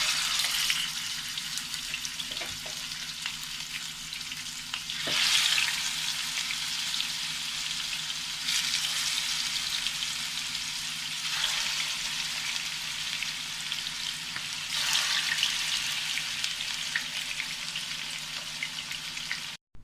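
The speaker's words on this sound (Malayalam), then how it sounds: "നമുക്ക് ചിക്കൻ്റെ കഷ്ണങ്ങൾ ചേർത്ത് പൊരിച്ചെടുക്കാം" Chicken pieces fry in hot oil with a continuous close, crackling sizzle that swells in a few brief surges, and no one speaks.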